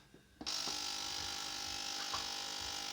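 A budget ultrasonic cleaner with its lid shut switches on with a click and settles into a steady, high electric hum that continues without a break.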